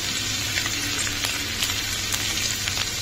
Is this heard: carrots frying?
yes